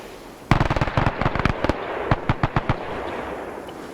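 Soldiers fire in a WWII strategy video game, with sharp gunshots cracking in quick, irregular clusters. The first volley is loud and rapid, then a sparser string of shots follows before the fire fades into a low ambient background.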